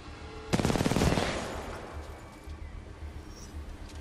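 Rapid automatic gunfire from the video game Titanfall 2 bursts in suddenly, loud and close, then trails off into a rumbling combat backdrop.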